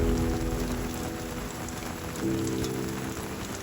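Steady rain falls at a campsite in Northern New South Wales, a dense continuous hiss of drops on surfaces with no talking.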